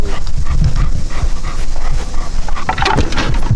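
A dog pants heavily and whimpers up close during leash training around pallets set up to add environmental stress. The quick, loud breaths run continuously, broken by occasional higher whines.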